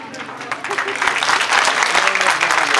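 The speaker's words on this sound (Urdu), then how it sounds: "آپ کی بیٹی کے لیے تالیاں مانگی ہیں میں نے تو" A crowd at a school annual day function gives a daughter a steady, full round of applause, many hands clapping at once and holding a fairly loud, even level throughout.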